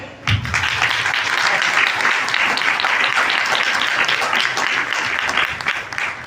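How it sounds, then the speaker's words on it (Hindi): An audience at a Christian gathering gives loud, sustained applause, with dense clapping rising sharply and holding steady until it tapers off at the very end. "एक बार जोरदार तालियां।"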